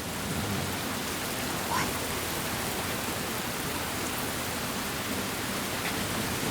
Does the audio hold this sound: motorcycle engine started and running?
no